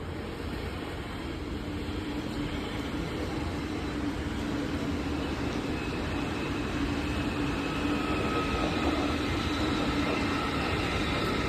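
A train rolls steadily past at Berlin-Rummelsburg, a loud continuous rumble with rail hiss and faint squealing tones that holds throughout and carries no talk.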